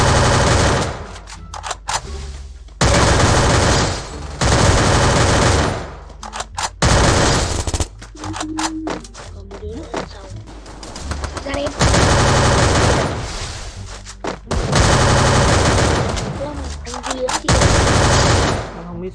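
Rapid automatic gunfire bursts in the shooter game Free Fire, loud and repeated in long volleys with short gaps, with occasional talk underneath.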